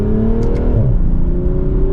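A 2024 BMW Z4 M40i roadster engine pulls through mild acceleration, a loud close droning tone that rises, shifts briefly and settles into a steady climbing hum inside the cabin.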